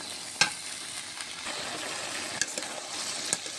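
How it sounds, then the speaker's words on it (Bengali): Boiled figs are sautéed in a pan with a soft, steady sizzle and a few scattered spatula scrapes and taps, close but fairly quiet. "সিদ্ধ করে ধুয়ে রাখা ডুমুর দিয়ে দেবো, করে কষে নেবো। সময় ধরে কষতে হবে।"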